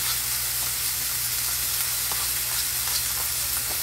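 Sausage sizzling steadily in a frying pan, a continuous loud crackle with faint hiss and occasional pops, no talking.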